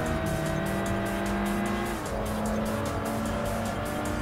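Race car engine roaring steadily with a drawn-out tire squeal as a stock Nissan Skyline corners in the Import Tuner Challenge video game, loud and continuous with a brief pitch drop mid-way.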